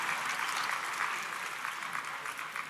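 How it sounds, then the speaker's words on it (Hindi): Audience applause welcoming an honoree at a ceremony honouring selected UPSC candidates, a steady, even wash of many clapping hands from a large crowd, continuous and moderately loud. "तालियों से स्वागत करें श्री मयंक सिंह जी का।"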